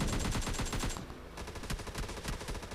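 Rapid automatic gunfire in a shooter video game, loud close bursts of evenly spaced shots that pause briefly and then resume, with no talking.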